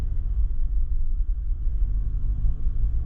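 A car rolling along a road behind the listener, a steady close low rumble of engine and tires with no break.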